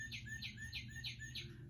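A northern cardinal repeats a clear, rapid series of about five bright whistled chirps, evenly spaced and fairly close, over a low steady background rumble.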